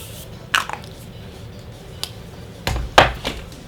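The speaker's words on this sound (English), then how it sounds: "the spraying doesn't end there. Urban Decay All Nighter Setting Spray" Several short, sharp spritzes from an Urban Decay All Nighter setting spray bottle come in uneven bursts, a couple close together, against a quiet background.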